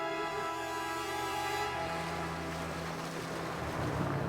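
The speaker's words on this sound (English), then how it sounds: "Really fantastic driving an airboat." An airboat glides at speed over water. Its propeller engine drones loudly with a steady tone, then breaks into a broad rush of spray and wind, with no talking.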